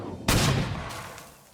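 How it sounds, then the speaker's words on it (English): A single loud artillery blast in the strategy video game Panzer Corps 2, a sharp broadband impact followed by a rumbling decay that fades over about a second, heard alone. "And turn, artillery strike, infantry."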